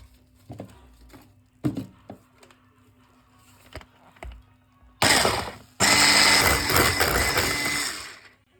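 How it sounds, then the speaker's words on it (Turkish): After a few scattered clicks and knocks, an electric hand mixer starts whirring loudly in batter of flour, semolina, vanilla and baking powder, briefly pauses, then runs steadily until it winds down. "Bu karışımları da iyice karıştırdık mikserle."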